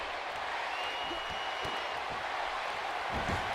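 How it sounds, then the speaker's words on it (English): Steady crowd roar from a virtual wrestling arena in WWE 2K18, fans calling for Randy Orton's RKO against Samoa Joe, a dense continuous din with occasional low thumps beneath it. "This crowd calling for the RKO, and they might just get it."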